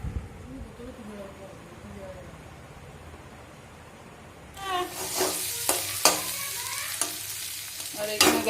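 Potatoes fry in a pan, with a loud sizzle and spatula stirring that begins partway through after a quieter stretch of room noise, then continues close and steady with scraping knocks.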